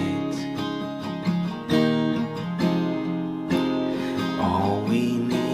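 Strummed acoustic guitar with a capo plays a worship song's chorus chord progression twice, steady rhythmic strokes ringing full and close, with no voice over it.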